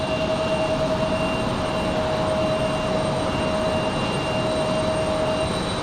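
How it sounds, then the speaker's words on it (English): A Cessna Citation Latitude business jet runs at an airport, its engines giving a steady, loud, continuous roar with a thin high whine held throughout, and no talking. "Cessna citation latitude."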